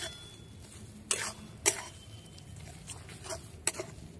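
A spoon stirring turmeric powder into mashed cabbage in a pan, with a few sharp scrapes and taps against the metal over a soft, low sizzle, fairly quiet overall.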